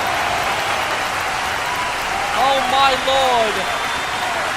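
Arena crowd cheering and applauding during a women's wrestling exhibition match in the WWE 2K24 video game, a steady broad roar swelling briefly midway, with a commentator's short exclamation over it.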